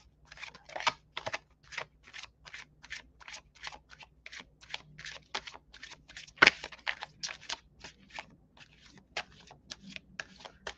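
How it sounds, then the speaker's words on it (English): A deck of tarot cards is shuffled by hand up close, giving a quiet, steady run of crisp riffling clicks and soft flicks, with one sharper snap partway through. "One more time, one more shuffle."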